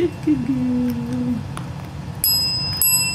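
A 10-week-old dachshund puppy strikes a service bell, giving two bright rings late in the passage that sustain over a steady background hum, with a voice speaking briefly earlier.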